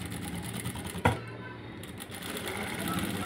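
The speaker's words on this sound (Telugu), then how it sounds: "ఇప్పుడు దీని మీద ఇలా స్టిచ్చింగ్ చేసుకోవాలి." A sewing machine stitching a cut work neck design, running in a steady rapid mechanical chatter close by, with a sharp clack about a third of the way through and a brief pause before it resumes.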